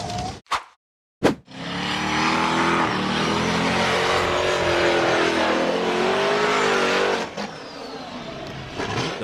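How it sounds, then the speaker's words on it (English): An off-road buggy charges up a steep, muddy dirt slope, its engine roaring loud and sustained at high revs for several seconds after a couple of short bursts, then dropping away near the end. "buggy charged up a steep, muddy dirt embankment"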